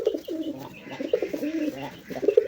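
Pigeons coo in repeated throaty phrases close by, among birds kept by a breeder selling racing pigeons, with soft background noise between calls.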